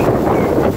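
Low, rumbling wind buffets the microphone in a steady roar, with no voices.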